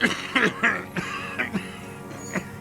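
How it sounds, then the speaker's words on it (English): A man in the video game Disco Elysium breaks into a coughing fit: a close series of harsh, raspy coughs and throat-clearing bursts in irregular rhythm, with no speech. "His hand shakes and he breaks into a coughing fit"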